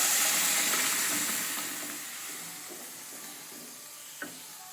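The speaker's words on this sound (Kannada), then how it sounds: "ಇದಕ್ಕೆ ಒಂದು ಸ್ವಲ್ಪ ತುಪ್ಪ ಹಾಕ್ಕೊಳ್ಳ, ಎಣ್ಣೆ ಆದರೂ ಪರವಾಗಿಲ್ಲ. ಸ್ವಲ್ಪ ಜೀರಿಗೆನ ಹಾಕ್ಕೊಂಡಿದ್ದೇನೆ. ನಂತರ ರುಬ್ಕೊಂಡಿರೋ ಮಸಾಲ ಹಾಕೋಣ." Ground masala frying in ghee with cumin, a soft continuous close sizzle that slowly fades, with one small clink near the end and no talking.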